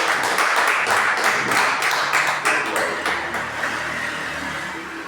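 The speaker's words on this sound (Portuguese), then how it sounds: "Aplauda o Senhor." Portuguese-speaking church congregation applauds the Lord, a loud wash of many clapping hands that starts full and gradually tapers off over five seconds.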